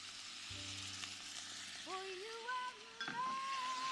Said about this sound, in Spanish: Voy a poner a cocinar esa cantidad y le voy a agregar un poquitín de aceite de oliva